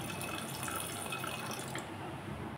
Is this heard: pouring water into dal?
yes